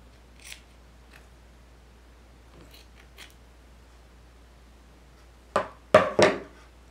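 Scissors snipping minky plush fabric: a few faint isolated cuts early, then three loud, close, crisp snips near the end against a quiet background.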